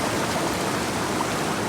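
Raging white water rushes close by at a gold-prospecting sluice box, a dense, steady broadband roar of churning water filling the whole clip with no voices.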